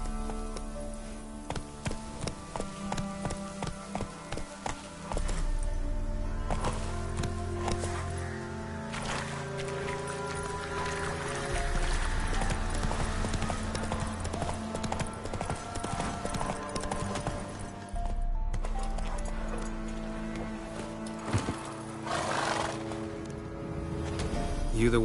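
In The Witcher 3, a horse's hooves gallop in a fast, relentless clip-clop for the full stretch, close and loud over a layer of orchestral game music.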